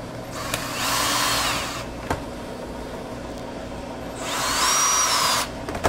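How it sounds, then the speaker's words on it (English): Power drill driving screws to fasten a screw-in door gasket on a Randell commercial refrigerator, two sustained whirring bursts of about a second and a half each, separated by a quiet gap with a single sharp tap, close and fairly loud. "Start putting our final screws in here."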